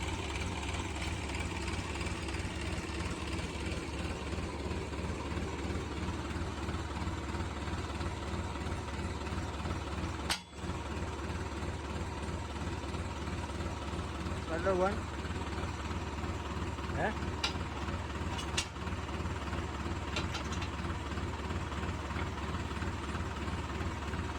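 A farm tractor engine runs at a steady idle, a low, even rumble that continues throughout, broken by a couple of brief knocks.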